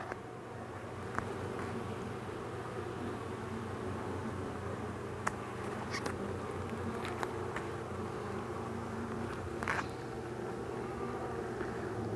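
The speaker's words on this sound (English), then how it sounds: "Big cells here, honey, tons of pollen, some fairly mature looking brood cells." Honey bees buzz on a hive frame during a beekeeping inspection, a dense, continuous drone close to the microphone with occasional brief clicks and knocks.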